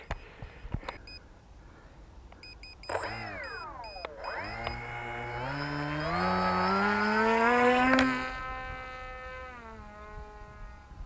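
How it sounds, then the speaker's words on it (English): Electric motor of a Lidl RC Vampire foam glider at about two-thirds throttle, a high whine that rises in pitch as it spools up over several seconds, then holds steady before easing slightly, loud and close with no talk. "I'm going to give it a 2/3 throttle throw"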